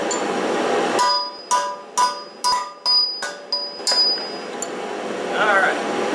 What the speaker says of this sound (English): I got my valve guide punch, my hammer, and I'm going to go ahead and I'm going to knock these out.